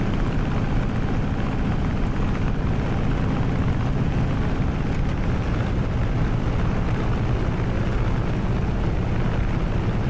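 A warbird aircraft engine drones steadily on approach to landing at Goodwood, a loud continuous low rumble with wind buffeting, no voices.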